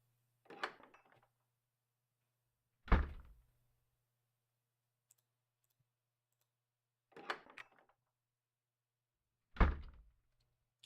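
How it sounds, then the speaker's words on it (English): Door sound effect in a Godot game in development, four separate short thunks with clicks spaced a few seconds apart over near silence, close and fairly quiet. "There is a door sound."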